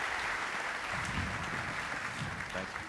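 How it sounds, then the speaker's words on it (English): Steady applause from a keynote session audience as three finalists walk out on stage, a continuous fairly quiet wash of clapping with low crowd murmur beneath it. "Guys, give them a round of applause."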